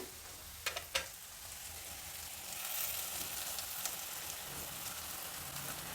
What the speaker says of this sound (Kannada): ನೆನೆಸಿಟ್ಕೊಂಡಿರೋ ಅವಲಕ್ಕಿನ ಇದರಲ್ಲಿ ಸೇರಿಸ್ತಾ ಇದ್ದೀನಿ